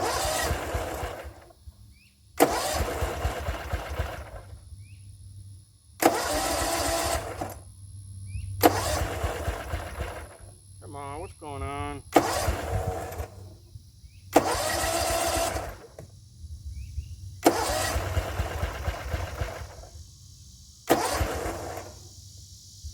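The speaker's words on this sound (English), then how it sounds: "The motor just doesn't want to start. It's trying." A Gravely 34z mower engine, choke on and the machine up on jack stands, cranks over in about seven separate bursts of a few seconds each, loud and close, with short pauses between tries and no catch.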